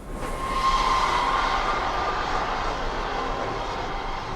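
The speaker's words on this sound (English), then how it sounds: "The train rushed into the platform while playing, and we heard a lot of noise around us." Loud rushing roar of a train pulling into a station platform in a visual-novel game, a broad continuous swell that peaks early and holds steady, with a faint metallic squeal near the start and no voices.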